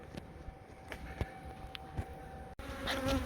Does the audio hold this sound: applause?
no